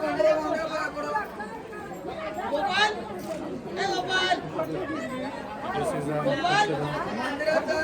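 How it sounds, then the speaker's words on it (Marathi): A dense crowd chatters at Jejuri temple, a steady close babble of many overlapping voices with no single speaker standing out. "तर guys, गर्दी झाली आता इथे अचानक."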